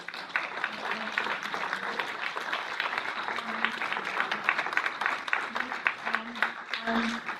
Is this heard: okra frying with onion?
no